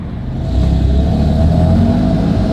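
A BMW F80 M3 drives steadily while its new brakes are bedded in, giving a loud, continuous engine drone with road rumble that holds level for a couple of seconds before cutting off abruptly.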